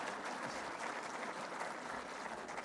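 Steady applause from an audience at a speech by Pakistan's prime minister on industrial electricity tariffs, even and sustained, moderately distant and fairly faint, with no voices over it.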